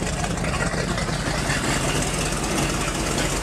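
A car idles with a newly installed Corsa Captain's Call side exhaust system, a steady, loud, low rumbling drone with no one speaking over it.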